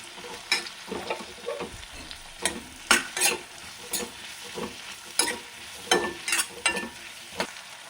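Onions and green chillies fry in oil for a restaurant-style paneer kurma, with rhythmic scraping stirs of a spatula over a light sizzle, close and clear with no talking.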